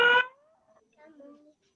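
A child imitates a cat's meow: one short, bright, voiced cry followed by faint, wavering, sliding tones that trail off quietly.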